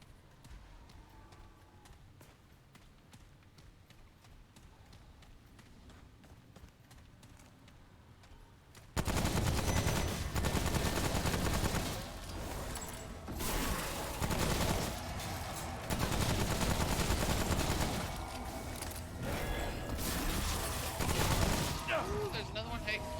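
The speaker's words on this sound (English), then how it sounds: "So angry now, I'm gonna shoot your friend." Rapid gunfire from the video game Remnant: From the Ashes, loud dense bursts and volleys filling the second half after a quieter opening, with sharp repeated shots over a busy game soundscape.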